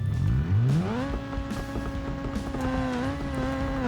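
A rotary engine swapped into a 200BX in the BeamNG driving game revs up from low and climbs into a steady high whine as the car launches, loud and close and without any talk.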